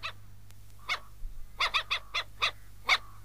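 A small dog barks in the snow, giving about eight short, high, yappy barks in an irregular rhythm, fairly close, over a quiet low hum.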